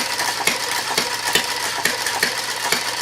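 A small single-cylinder engine runs on slight choke after starting: a fast, even mechanical clatter of regular ticks, close and moderately loud, with no voices.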